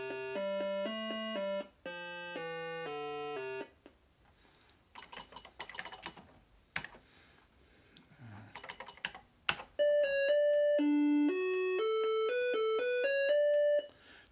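Atari Logo computer music plays rapid, clean square-tone melodic notes in quick steady sequences, with a stretch of soft clicking and keyboard tapping between two passages; fairly quiet overall.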